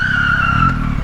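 Tires screech in one loud, sustained squeal as a car brakes hard in Naples traffic, holding a steady pitch for about a second before cutting off.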